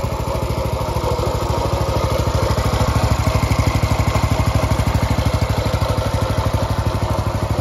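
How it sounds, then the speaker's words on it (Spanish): A 1941 Ford Willys go-kart's small engine running steadily, a fast, even, close-up putter with a rapid regular pulse and a slight swell in loudness midway. "con su motor perfectamente bien balanceado"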